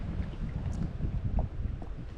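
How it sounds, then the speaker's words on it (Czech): Gusty wind buffets the microphone outdoors beside a reservoir at low water while fishing, a steady broadband rumble with swelling gusts throughout and no voices. "rozfoukalo se nám ještě víc než foukalo"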